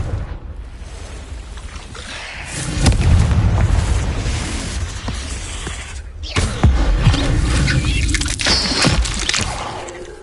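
Confringo spell blasts from Hogwarts Legacy on PS5: heavy booming explosions with rumbling bursts and debris noise, loud and close amid game combat sounds.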